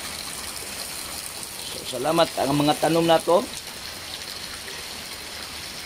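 Heavy rain falling steadily over a backyard in General Santos City, a constant wash of hiss throughout, with someone talking briefly in the middle.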